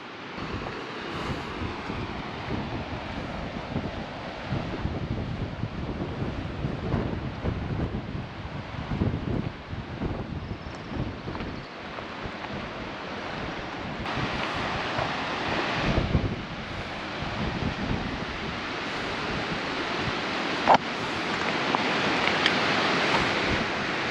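Surf waves break on Short Sand Beach on the Oregon coast, with rolling surges of wash and heavy wind buffeting the microphone, loud and continuous and swelling toward the end.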